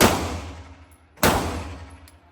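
Two sharp, loud shots from a Colt Defender 1911 pistol fired at a range, spaced about a second apart, each cracking hard and decaying into a brief echo.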